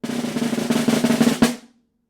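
A snare drum played in a fast pattern with buzzed rolls and accents, ending on a final stroke that rings out briefly before silence.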